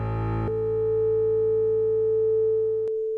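Steady pure sine tone sustained at a single pitch, the fourth partial of A110 coinciding with the second partial of A220, starting after a brief harmonic-rich onset and holding evenly for nearly three seconds before cutting off.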